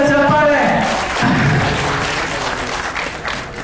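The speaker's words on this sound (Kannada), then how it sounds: "ಜೋರಾದ ಚಪ್ಪಾಳೆ" A crowd at a telefilm press conference breaks into loud applause, many hands clapping close by and thinning toward the end, with a brief voice and tone at the start.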